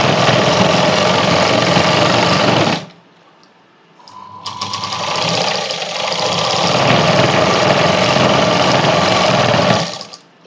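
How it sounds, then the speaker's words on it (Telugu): A sewing machine runs in fast continuous bursts while stitching a puff sleeve on a blouse. There is a loud stretch of whirring, a short pause, then a longer run of stitching that stops abruptly. "ఒక స్టిచ్ అనేది వేసుకుంటున్నా పైనుండి"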